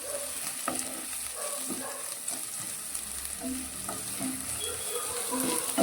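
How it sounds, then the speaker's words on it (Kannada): Okra frying in a pan, a steady close sizzle with occasional soft stirring clinks, no talking. "ಇನ್ನು ಸ್ವಲ್ಪ ಫ್ರೈ ಆಗಲಿ."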